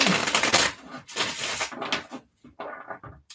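Papery riffling and slapping of tarot cards being shuffled in several quick bursts, close by, with short pauses between.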